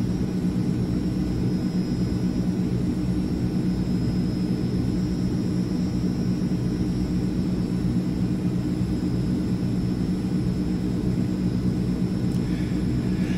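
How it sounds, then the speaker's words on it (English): Airbus C-160 transport aircraft in steady flight in Microsoft Flight Simulator, a continuous engine drone with a broad, unchanging hum that holds at even loudness throughout, no voices. "And the aircraft is flying so nice."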